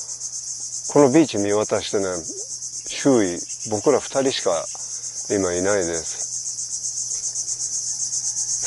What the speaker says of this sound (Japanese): セミの声が優しく響くっていうのかな、